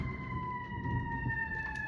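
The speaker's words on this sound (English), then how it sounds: "don't mind the siren" A steady wailing siren in the distance, its pitch holding nearly level, over low rumbling background noise.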